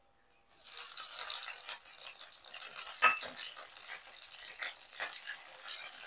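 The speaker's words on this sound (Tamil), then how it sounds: "அடுத்தது இந்த எண்ணெயில இந்த கருவேப்பிலையும் போட்டுடலாம்." Fresh curry leaves dropped into hot oil while making tomato thokku give a steady, close sizzling hiss, with a sharper crackling burst around the middle. There is no talking.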